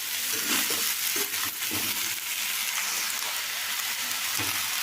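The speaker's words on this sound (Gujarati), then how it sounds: "હવે દૂધીને એડ કરી દઈશું। હલાવી દઈશું। મિક્સ કરી દઈશું।" Bottle gourd pieces being stirred in a hot pan, giving a steady close sizzle broken by soft, repeated scraping and stirring strokes.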